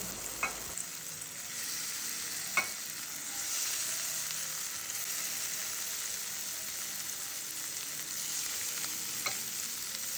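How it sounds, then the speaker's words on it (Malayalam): Prawns frying in hot coconut oil in a pan, a steady close hiss of sizzling with a few sharp pops and light clicks as pieces are placed. "ഒരു പാനിൽ വെളിച്ചെണ്ണ ഒഴിച്ചിട്ട് അത് ചൂടായതിനു ശേഷം നമുക്ക് ഓരോ കൊഞ്ചനായിട്ട് ഇതിലേക്ക് നമുക്ക് എടുത്ത് വെച്ച് പിടിച്ചെടുക്കാം"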